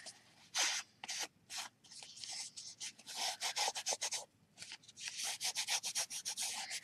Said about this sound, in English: I'm going to give it a rub.